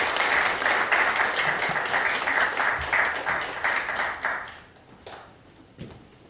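A church congregation claps together during a Korean Sunday service, a full steady round of applause that thins and fades after about four and a half seconds, leaving a few scattered claps.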